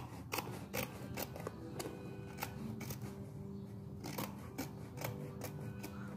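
Scissors snip through fabric while a small covered box for a baptism invitation is being lined, giving a quiet, close series of crisp cuts at an irregular pace with faint handling sounds in between.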